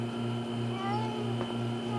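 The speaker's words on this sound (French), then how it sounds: "on va aller chercher ton chat dans cet arbre" A cartoon cat stuck up in a tree meows in drawn-out, wavering cries over a steady musical background hum, fairly close and continuous with no talk.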